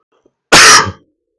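A single sharp, loud cough close to the microphone, bursting out and fading within half a second, with silence before and after.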